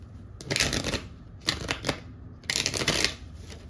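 Tarot cards shuffled in a pick-a-card reading, three quick riffling bursts close and fairly loud, separated by short pauses, with no voice over them.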